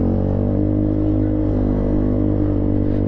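Close, loud, steady drone of a motorcycle running with a TZM aftermarket exhaust, a deep, even rumble held throughout without revving.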